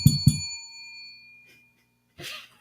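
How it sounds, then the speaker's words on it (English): A bell dings twice in quick succession near the start, bright and ringing with a long fading tail, followed by a brief breathy noise at the end. "what's that bell?"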